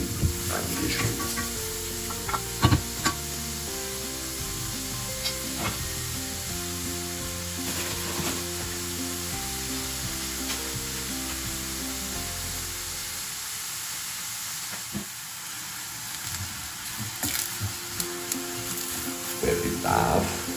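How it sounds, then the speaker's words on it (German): Chopped onion frying in plenty of oil for Sarma cabbage rolls, a steady close sizzle and crackle running throughout, with occasional stirring clatter and background music underneath. "Der Zwiebel wird klein, aber nicht fein zusammengeschnitten. In reichlich Öl, goldgelb angeschwitzt."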